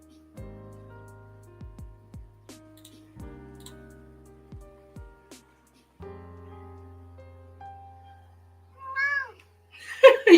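A pet cat meows a couple of times near the end, rising and falling cries close by, after a stretch of quieter soft tones and faint background sounds.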